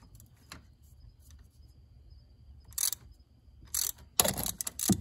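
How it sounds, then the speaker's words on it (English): A ratchet loosening a 13 mm bolt on the back of an AC compressor of a Dodge Nitro 3.7: a few short, sharp clicking ratchet bursts close by, getting busier toward the end, over a quiet background. "the bolt on this very back side of the AC compressor is a 13 millimeter. So let's go ahead and crank that one off."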